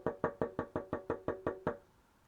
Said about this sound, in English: he heard a knocking